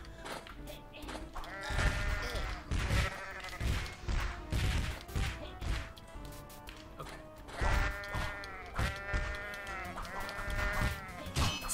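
Goat bleating in a video game, a series of wavering cries over and over amid clattering game noise, loud and up front.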